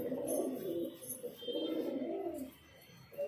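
A male highflyer pigeon in a loft gives steady low cooing, close by and continuous with brief pauses, over a faint background of other birds.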